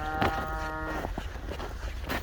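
Cattle on a farm during calving season, with heifers waiting to calve, let out a close, drawn-out moo at the start, followed by quieter shuffling and farmyard noise.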